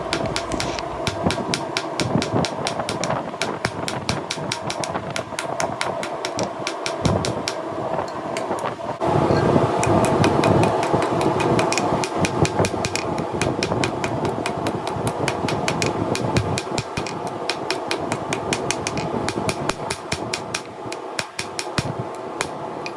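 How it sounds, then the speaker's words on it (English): Rapid, continuous metallic hammering rings out: dense repeated strikes on hot steel over an anvil as the tapered tip of a hunting knife is forged, with a steady mechanical hum behind them. "we're forging in the tip like we did in the last video"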